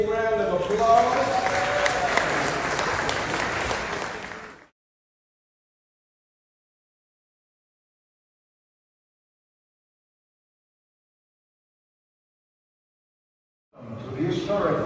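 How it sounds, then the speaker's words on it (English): Audience applause in the grand lobby of the historic Peabody Hotel at the Peabody Ducks event, a loud sustained crowd clapping for about four seconds that cuts to silence, then resumes near the end. "All right, let's give Preston another big round of applause."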